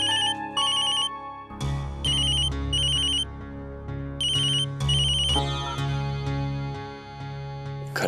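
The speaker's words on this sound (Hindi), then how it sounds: "बार बार फोन आ रहा है।" A phone ringtone plays a repeating electronic melody in short bursts, fairly loud and close, over a steady low background tone.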